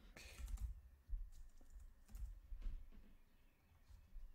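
Keys clack softly on a computer keyboard in a short, irregular burst of taps, close but quiet, with no talking.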